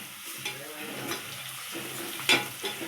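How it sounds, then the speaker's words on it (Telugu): A handful of mint and a teaspoon of turmeric frying in a pan for an Andhra-style chicken curry, a soft, quiet sizzle with occasional stirring scrapes and one brighter clink. "ఇవి మంచిగా ఫ్రై అయినాయండి."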